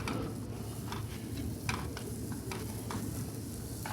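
Onion, carrot and celery stir-fried fast over high heat, a steady close sizzle with scattered clicks and scrapes of stirring throughout.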